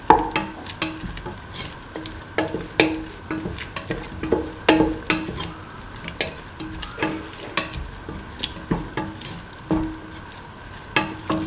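A spoon stirs and mixes an egg and potato dish in a frying pan with a soft sizzle underneath, producing repeated scraping strokes in an irregular rhythm that is close and moderately loud.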